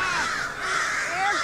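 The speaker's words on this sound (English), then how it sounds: "Those are birds!" Several crows caw in a loose flock, overlapping calls rising and falling across a steady wash of bright, noisy background sound.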